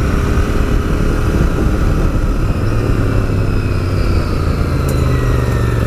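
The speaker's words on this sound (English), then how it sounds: "This one's got a standard exhaust on. It sounds absolutely amazing." A steady, loud engine drone from an Interceptor 650 motorcycle with a standard exhaust, with a low rumbling exhaust note throughout, close by and continuous as it cruises along.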